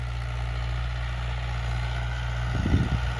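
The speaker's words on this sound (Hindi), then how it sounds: "ट्रैक्टर की आवाज़ बता दो मेरे भाइयों एक बार कैसी लग रही है।" A Mahindra 475 DI tractor engine idles with a steady low throbbing hum, joined near the end by a brief burst of heavier rumbling.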